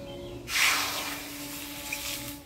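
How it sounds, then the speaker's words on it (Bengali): Water poured into a hot wok erupts in a sudden loud hiss and sizzle, then settles into a softer steady simmering hiss, while cooking leafy greens for a Bengali dish. "কড়াইয়ে দিয়ে দিব জল"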